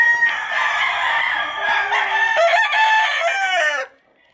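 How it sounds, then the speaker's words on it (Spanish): Several fighting roosters, two-year-old game cocks, crow loudly and close in overlapping calls that run for nearly four seconds before cutting off, with no talk. "Todos estos 12 gallos."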